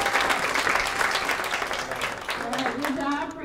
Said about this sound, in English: let's give them another round of applause for doing a great job.